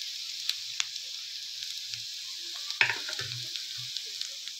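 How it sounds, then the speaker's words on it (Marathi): Onion and tomato frying in a pan, a soft steady sizzle that carries on with no voices, with a few scattered clinks and light stirring taps. "कांदा हा असा चांगला फ्राय करून घ्यायचा आहे."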